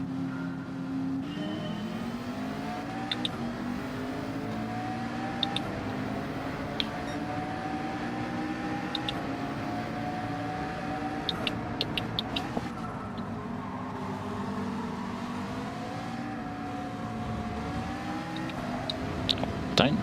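McLaren race car in Gran Turismo 7 at Interlagos, its engine droning steadily throughout with rising and falling pitch as it accelerates and shifts, loud and continuous with no talk.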